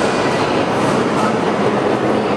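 Train at King's Cross Station on a Harry Potter tour, a loud, steady rumble of a nearby train with faint rolling clatter, sounding alone without talk.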